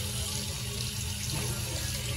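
Water gushing from a newly connected tap, a steady, fairly close hiss and splash that runs on unbroken without pauses.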